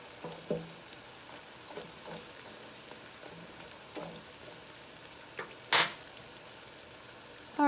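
Dandelion fritters fry in oil with a soft steady sizzle, broken by a few light clinks of utensils and one sharp louder clatter near the end.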